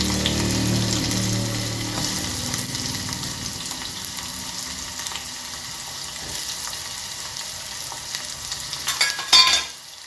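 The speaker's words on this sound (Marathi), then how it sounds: "सगळं टाकल्यावर कांदा व्यवस्थित भाजायचा आहे" Chopped onion with green chillies sizzles in a pan for potato sabzi, a continuous bright frying hiss that settles over time, ending with a few louder stirring clatters.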